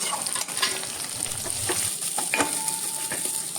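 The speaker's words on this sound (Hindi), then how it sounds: "तो यहाँ पर मैं अब प्याज को फ्राई कर लेती हूँ।" Onions frying in ghee in a pan for a turmeric vegetable dish, continuous close sizzle with occasional scraping stirs and a brief tone near the end.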